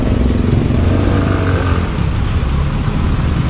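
A Suzuki Burgman Street 125 EX scooter climbs uphill, its engine droning loud and close under heavy wind buffeting, a continuous rough rumble without talk.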